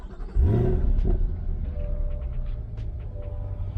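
A Corvette C8 Stingray coupe's engine cranks and fires with a loud low rumble, then settles into a steady, slightly rough idle that holds close and continuous to the end.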